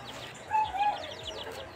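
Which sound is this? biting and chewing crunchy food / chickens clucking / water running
chickens clucking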